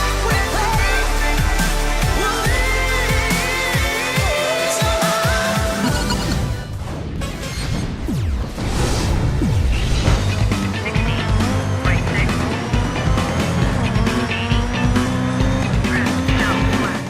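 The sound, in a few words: rally cars racing with tire squeal, from video game Dirt 3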